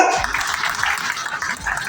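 Applause from a crowd at an Indian political rally, a steady, dense patter of many hands clapping that holds evenly at a fairly loud level without a break.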